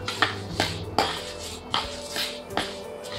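Fenugreek seeds and mustard seeds are pounded for a sweet and spicy raw mango pickle: a series of about seven sharp, close strikes at an uneven beat, each with a short metallic clink.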